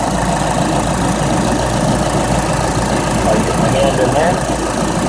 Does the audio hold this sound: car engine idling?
yes